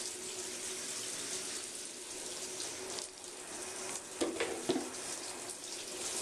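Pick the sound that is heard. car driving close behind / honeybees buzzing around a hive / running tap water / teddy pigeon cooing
running tap water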